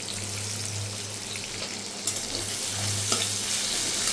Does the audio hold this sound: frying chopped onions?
yes